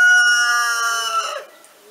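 A rooster in Montcuq crows loudly in one long harmonic call that strains and breaks off near the end, followed by a quieter tail.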